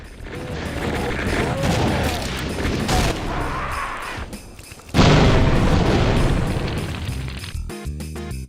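Explosions and a flashbang in a Doom mod, rumbling booms and crashing bursts, then a sudden loud blast near the five-second mark that rings on at high level; a voice speaks faintly beneath.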